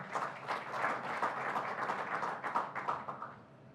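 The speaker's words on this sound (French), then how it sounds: "Sous vos applaudissements." Audience applause at a conference panel on seawater desalination, a steady patter of many hands clapping for several seconds, moderately loud and fading slightly at the end.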